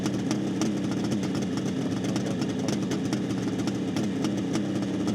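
A 1972 Kawasaki H2 750 Mach IV two-stroke motorcycle engine runs steadily and loud up close, a continuous rasping drone with a rapid pulsing beat and no voices.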